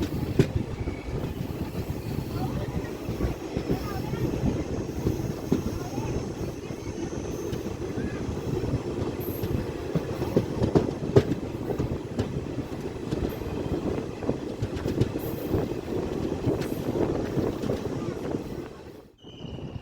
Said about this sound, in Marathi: आता आपली गाडी कराड रेल्वे स्टेशनवरून डिपार्चर होत आहे